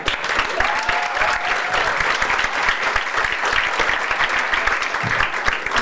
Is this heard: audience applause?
yes